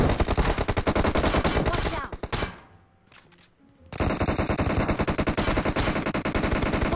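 Rapid automatic gunfire from the mobile battle royale game PUBG Mobile, loud and dense in sustained bursts, breaking off for about a second of near-quiet before resuming just as hard.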